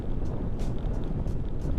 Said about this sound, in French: Le vent aujourd'hui, il est pas content.